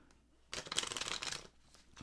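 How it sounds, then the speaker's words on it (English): A deck of playing cards shuffled at a blackjack table: one quick riffling burst of about a second, crisp and close, between quiet moments, with no talking. "I'm going to shuffle this."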